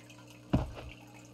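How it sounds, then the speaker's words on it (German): A single close water drip lands in a Meteor Mess 3D game scene near dirty pool water, one short splashy plop standing out against a quiet background. "Was tropft denn überhaupt hier?"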